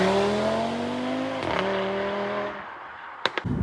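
An Audi RS3 with a Stage 2 tune drones loud and close as the revs slowly fall, then the engine note cuts off and two sharp exhaust pops crackle out.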